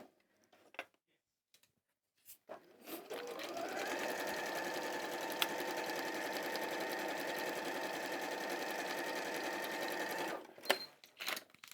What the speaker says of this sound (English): using that 1/4 inch seam and just sewing along the full length of each of those strips